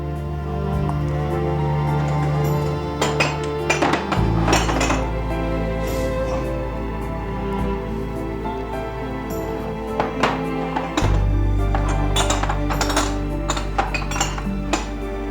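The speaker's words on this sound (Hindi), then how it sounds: "पहले तुम डिशवॉशर से बर्तन निकाल दो, इसके बाद कप्स और प्लेट्स को तुम कबर्ड में रख देना" Cups and plates clink and clatter as a dishwasher is unloaded, scattered crisp clinks of crockery and cutlery running steadily throughout over a droning low background tone.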